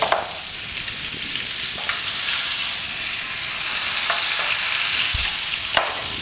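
A butter-basted steak sizzles loudly and steadily in a pan, with a bright continuous frying hiss broken by a few sharp clicks and scrapes as it is handled and flipped.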